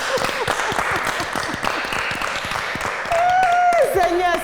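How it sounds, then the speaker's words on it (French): An audience claps in a quick, scattered patter under loud voices, with a rising tonal squeal breaking in near the end. "Applaudissez pour la star que je suis"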